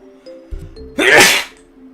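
One loud sneeze bursts out close to the microphone, with a short indrawn breath before it, and it stands over a faint background of soft game music.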